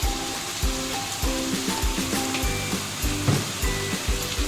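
Chicken egg roll filling with ginger and cumin powder sizzles steadily in a hot pan, with rhythmic stirring scrapes pulsing through the frying hiss at close range. There is no talking.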